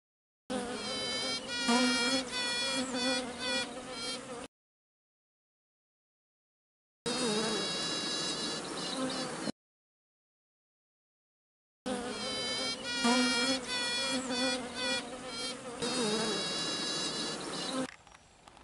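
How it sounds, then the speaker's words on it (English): Two honeybee queens pipe inside a hive during swarm retrieval, giving repeated high tooting bursts at two different pitches in three separate stretches, close and clear over a steady buzzing hum. "when you only pick up one tooting sound or one piping sound, you think there's only one queen in the hive"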